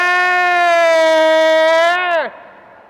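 An audience imitates an ambulance siren with voices, a loud sustained wailing tone held for about two seconds before sliding down and trailing off.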